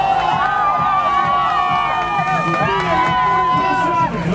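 A crowd at a strongman competition cheers and shouts loudly and continuously, a dense mass of voices with an excited announcer-like voice over it.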